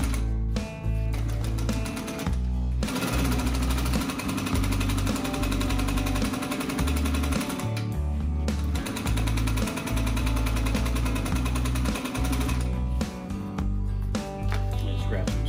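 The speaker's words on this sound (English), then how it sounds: "sew kind of fast just because we wanna get through this" Upholstery sewing machine stitching a butt seam on scrap fabric, running in fast, steady bursts of loud mechanical chatter with brief pauses between runs, no voices over it.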